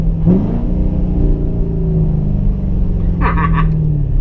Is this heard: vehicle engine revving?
yes